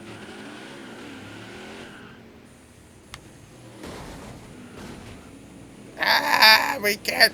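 NASCAR truck spinning through a turn in the NASCAR Heat 5 video game, with low engine drone and rough tire noise, then a loud burst of revving and tire squeal near the end, while someone talks over it.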